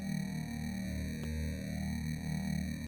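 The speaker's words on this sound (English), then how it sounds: "Then we have this downsampled bass, which I think sounds super cool and aggressive." A gritty, distorted downsampled bass synth drones with a harsh, buzzy, lo-fi texture and a bright metallic overtone, holding one steady pitch with a brief click midway.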